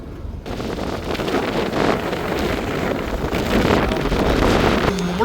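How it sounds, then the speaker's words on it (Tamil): Strong cyclone wind roars and gusts continuously across the microphone, loud and harsh, with a rushing, blustery texture throughout. "காற்று அப்படி காத்தடிக்குது"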